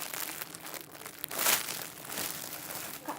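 Plastic packaging of a squishy toy crinkles and crunches up close in irregular bursts, with one louder rustle in the middle.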